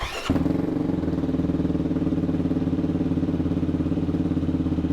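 A tuned motorcycle engine fires up after a brief crank, then settles into a loud, steady, close idle with an even thumping pulse.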